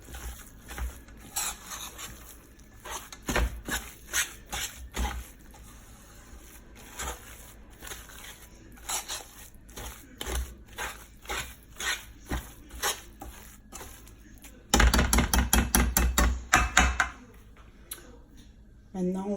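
Sweet potato pudding batter is mixed by hand in a bowl, making irregular clicking and tapping strokes of a utensil, which speed into a fast rhythmic burst of whisking near the end.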